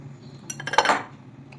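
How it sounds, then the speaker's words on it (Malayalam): A utensil works ripe bananas in a bowl for sweet banana balls, producing a short burst of scraping and clinking against the bowl, close and fairly loud, then fading. "ഇനി നമുക്ക് ഇതൊന്ന് ഉടച്ചെടുക്കാം."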